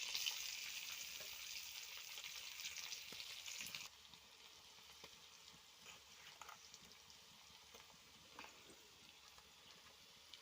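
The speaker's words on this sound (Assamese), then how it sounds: "নহৰুখিনি অলপ ৰঙাকৈ ভাজি এতিয়া মই পিঁয়াজ দি দিছোঁ" Garlic and onions fry in a pan with a soft sizzle. The hiss is brighter at first, then drops to a quieter crackle with occasional stirring clicks, faint and close, with no talking.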